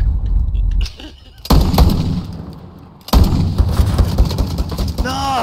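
Loud video-game gunfire crackles in dense bursts during a gun-game match, with heavy booming shots, a short lull, then another sustained volley.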